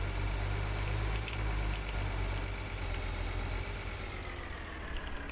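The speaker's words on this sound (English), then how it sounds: "Turn off the combine." A combine harvester engine idles in Farming Simulator 2013, a steady low rumble with a mid-range hum that holds constant and fairly loud throughout, with no voices over it.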